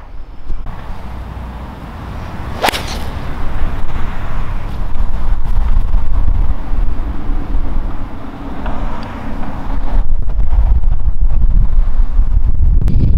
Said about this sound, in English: We have a tremendous amount of wind dead into us